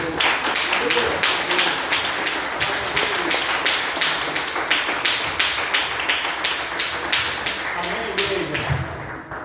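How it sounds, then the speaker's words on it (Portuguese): A church congregation claps together in a steady, rhythmic burst of applause for several seconds, many hands sounding close and loud before it stops abruptly near the end. "vamos dar uma salva de palmas para o Senhor"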